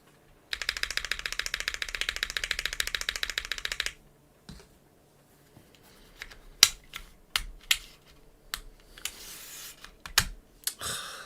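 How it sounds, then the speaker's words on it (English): A Neo65 mechanical keyboard rattles through a fast, dense run of typing for several seconds, then a lubed spacebar is pressed in a few isolated, sharper clacks amid handling noise, close and fairly loud. "Listen to the spacebar now. This is the lubed one."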